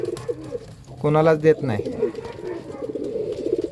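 Breeding pigeons kept in a loft setup coo in low, throaty bursts close by, mixed with someone talking over and between the calls.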